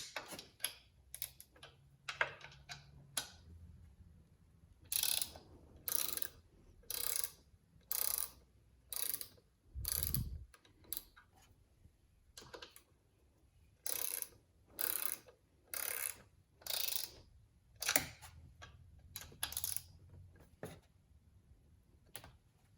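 A SATA 120P ratcheting wrench clicking as it removes a fastener, short bursts of rapid ratchet ticks repeating in a regular back-and-forth rhythm, close and fairly quiet, with no talking.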